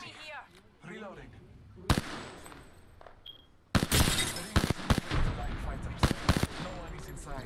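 Rapid gunfire in the battle royale game Apex Legends, loud bursts and sharp single shots cracking in clusters through the second half, with a player talking over earlier quieter stretches.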